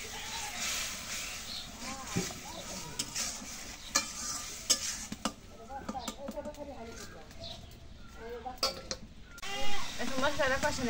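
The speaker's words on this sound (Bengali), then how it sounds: "এখন মশলাটা কষানো হচ্ছে, শাকটা দিয়ে দিই।" Spices for a Bengali greens dish are stirred and fried in a pan. Close scraping strokes sound over a soft sizzle, while a voice speaks and doves coo in the background.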